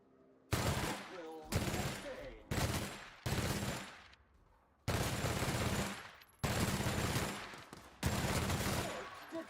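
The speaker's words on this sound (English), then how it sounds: "let's try out our new much up-powered light machine gun" Light machine gun in the video game The Outer Worlds firing in seven loud, sustained bursts, each about a second long, separated by short gaps, close and dominant with no talk.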